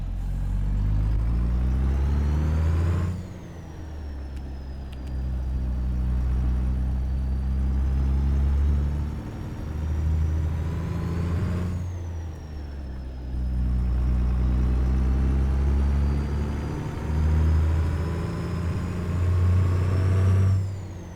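A Caterpillar 3406B diesel in a heavily loaded truck cruising the freeway in American Truck Simulator, a loud steady low drone that rises and falls as it pulls through the gears, with brief dips at gear changes.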